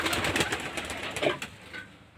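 Pigeons coo softly while being caught and hand-fed one by one, their low calls mixing with rustling wings and handling noises nearby, the activity fading toward the end.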